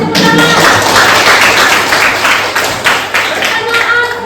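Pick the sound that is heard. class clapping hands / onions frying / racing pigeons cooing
class clapping hands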